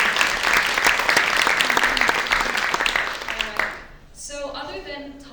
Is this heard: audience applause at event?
yes